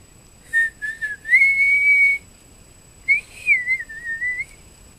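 A person whistling two short melodic phrases, clear and close, separated by a brief pause and alone without talk.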